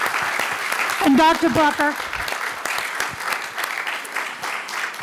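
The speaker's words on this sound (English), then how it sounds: "let's give one more round of applause to our wonderful, esteemed panel" Audience applauding a panel at a 2014 macula vision research seminar in Philadelphia, a steady dense clapping wash throughout, with a voice speaking briefly over it near the start.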